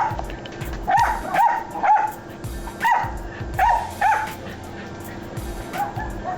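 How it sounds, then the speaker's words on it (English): Several dogs bark repeatedly at night, sharp yaps and whimpering barks in irregular bursts, fairly close and loud, then trailing off into quieter background noise. "These dogs have been barking like crazy all night."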